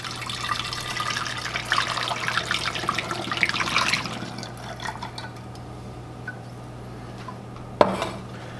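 The hottest water from a tap pours steadily into a container for several seconds, then stops, followed by quiet and a single sharp clink.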